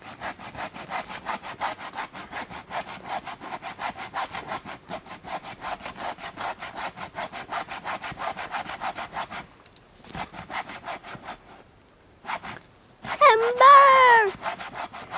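A hand saw cuts limbs off a felled tree in the woods, its strokes close, steady and rhythmic for about nine seconds before stopping, followed by quiet and a brief high tonal sound near the end.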